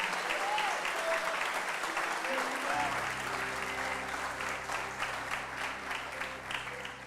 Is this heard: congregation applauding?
yes